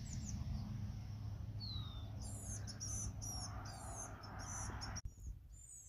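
A bird chirps in a garden in the morning. Quick, high, bright calls come in bursts over a low, quiet background hum, ending near a sharp click.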